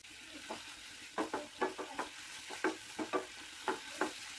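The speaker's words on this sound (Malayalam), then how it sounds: "ഇതിലേക്ക് ഒരു മീഡിയം സൈസ് സവാള, 2 തക്കാളി, ആവശ്യത്തിന് ഉപ്പ് എന്നിവ ചേർത്ത് ഇളക്കി കൊടുക്കുക" Onion, tomatoes, chillies and garlic frying in oil are stirred with a spatula, giving a dozen or so sharp scraping strokes in an uneven rhythm over a soft, steady sizzle, close by and with no voices.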